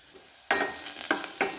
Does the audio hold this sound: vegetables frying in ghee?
yes